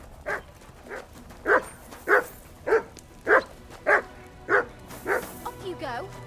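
A dog in the medieval role-playing game Kingdom Come: Deliverance 2 barks about nine times at a steady rhythm, fairly close and loud, then ends with a few softer whimpering yelps.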